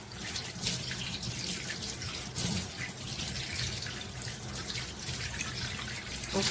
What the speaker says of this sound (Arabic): انا مدمنه ميه، يعني لازم اغسل ايدي كل شويه